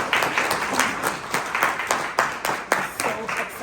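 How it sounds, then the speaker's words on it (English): Audience applause at an arts talk in Toronto, a room of hands clapping steadily with distinct individual claps, fairly close and moderately loud for a few seconds with no talking over it. "Let's give her a round of applause."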